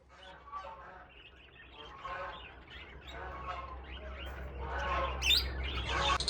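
Bengalese finches and zebra finches chirping in a backyard aviary, with soft, busy overlapping tweets and calls over a constant low hum, growing a little louder toward the end.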